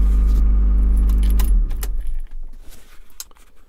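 A Honda Accord with a strange fault idles low and steady up close; about halfway through the engine note cuts off and a jangle of keys follows.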